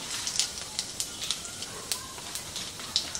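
Whole cumin seeds crackle in hot oil in a kadai, giving faint, irregular pops and a light sizzle close by.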